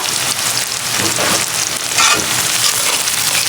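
Onions sizzle and crackle in hot oil with cardamom, cinnamon and garam masala, following lightly fried potatoes, a loud, close, continuous frying hiss with bursts of spattering and no talk.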